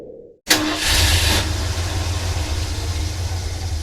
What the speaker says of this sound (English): The truck engine is seriously gasping for air.